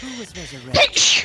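Two sharp sneezes burst out close and loud in quick succession during a casual group voice-acting session, following a short line of speech.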